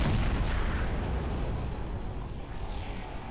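A cannon fires in the Roblox game Tower Defense Simulator during a Halloween event, giving heavy booming blasts that roll together into a loud rumble, then ease off slightly toward the end.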